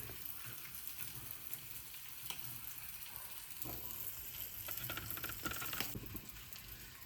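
Fish fries on a tawa with a faint, steady sizzle and crackle, along with soft stirring and scraping sounds heard close by.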